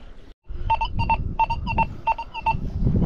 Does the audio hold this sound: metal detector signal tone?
yes